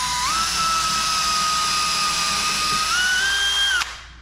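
A power drill runs steadily for nearly four seconds, boring pilot holes to fasten a floor transition strip over LVP flooring; its whine climbs slightly in pitch near the end before cutting off abruptly, close and loud with no talk.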